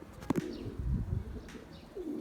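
Soft low cooing from Hünkari pigeons close by, a couple of murmured coos with a light rustle and a faint chirp, quiet in a still space.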